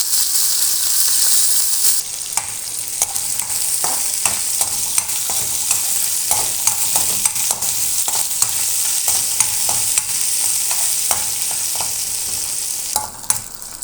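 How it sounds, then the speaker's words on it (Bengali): Dried fish (shutki) frying in hot oil in a pan: a steady, close, loud sizzle runs throughout, dotted with irregular clicks and scrapes from stirring, and no one speaks. "শুটকি ভাজা হয়ে গেছে"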